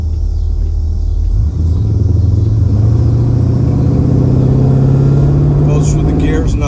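A 1965 Buick Riviera V8 accelerating through the gears, a loud close rumble whose pitch climbs steadily with a brief dip at a shift, with someone speaking over the engine.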